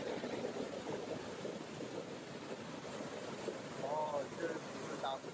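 Shifen Waterfall in Taiwan after rain, running with high water flow, makes a continuous broad roar; faint voices come through briefly under it.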